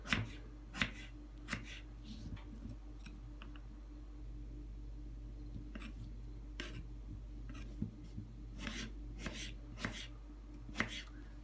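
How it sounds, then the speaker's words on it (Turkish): A knife chops peeled potatoes finely on a board in scattered, sharp taps with pauses between, close up over a low steady hum. "Soyduğumuz patateslerimizi ince ince doğrayalım."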